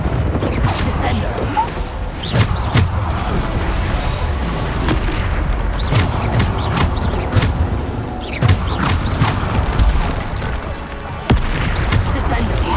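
Spell blasts and explosions in the video game Hogwarts Legacy: repeated booming hits and bursts through a dense, continuous combat din, with a voice calling out over it.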